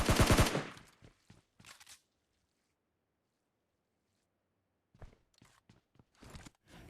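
Automatic gunfire in the mobile shooter PUBG Mobile Lite: a loud rapid burst at the start, a few shorter shots shortly after, then a long quiet gap before scattered sharp shots return near the end.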